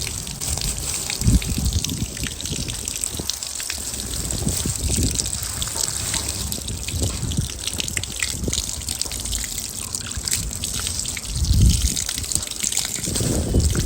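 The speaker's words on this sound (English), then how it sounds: "Allow the water to wash away the excess dye." Running water splashes and trickles steadily over tie-dyed fabric, rinsing out excess dye, with a few louder gushes, close by and with no talking.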